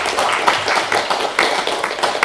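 Audience applause at the close of a conference talk on preventing burnout, a steady patter of many hands clapping at close range for a couple of seconds, without speech.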